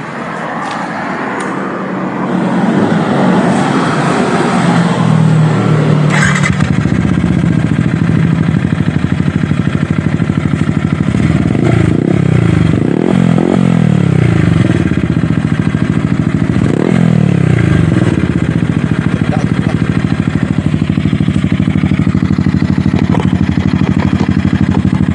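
A Yamaha YZF R15M motorcycle with an Akrapovic M1 full exhaust system and quick shifter runs loud and close, its engine droning steadily with rising and falling revs for the whole stretch.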